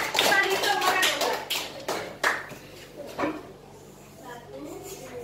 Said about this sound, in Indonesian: tepuk tangan untuk Bung Dipan